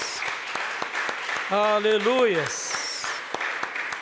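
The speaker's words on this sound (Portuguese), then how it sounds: "Você poderia dar uma grande salva de palmas ao Senhor?" A church congregation claps in praise during a worship service, a fairly quiet patter of hands running under a preacher's voice as he calls out.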